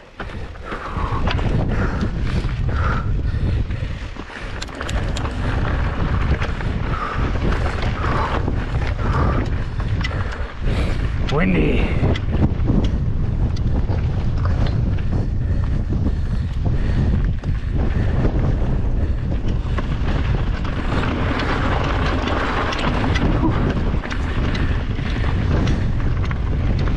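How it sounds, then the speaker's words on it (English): Strong wind buffeting the microphone of a helmet camera while riding a Trek Fuel EX 5 mountain bike on a desert trail near Las Vegas, a loud continuous rumbling roar throughout. "Windy."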